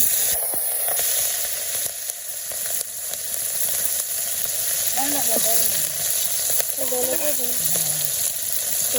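Green chillies frying in oil in a karahi, a steady sizzle and crackle throughout with occasional stirring clinks, while a voice talks intermittently over the cooking.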